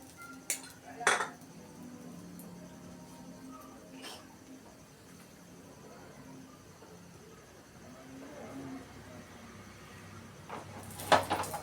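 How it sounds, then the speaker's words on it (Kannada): A metal spoon clinks against a frying pan while a couple of spoonfuls of oil go in. A few sharp clatters come near the start and again at the end, with quiet kitchen room tone between. "ಮತ್ತು ಇವಾಗ ಬಾಣಲಿಗೆ ಒಂದೆರಡು ಸ್ಪೂನ್ ಎಣ್ಣೆ ಹಾಕ್ತೀನಿ."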